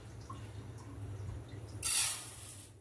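Gobindobhog rice being washed for payesh gives a short, splashy rush of water near the end, after a quiet stretch of faint low background hum.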